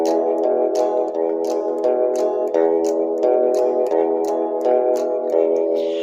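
Electric guitar played in the style of the Sun Records era, picking bass notes with quick strums in between, a steady even boom-chicka rhythm, close and clear with no talking.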